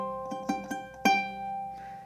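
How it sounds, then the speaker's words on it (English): A ukulele is plucked in picado technique, alternating fingers, during a song lesson: four crisp, ringing notes in quick succession, the last accented and left to sustain and fade. "So I'm going to do a little piccato technique"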